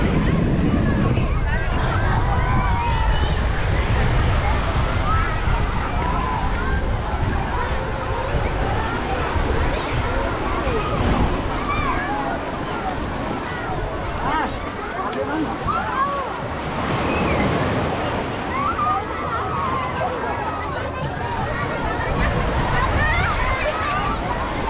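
Wide, windy beach ambience at Reviola Beach in Batam, with a continuous wash of surf and wind buffeting the microphone, steady and fairly loud throughout, while someone talks over it.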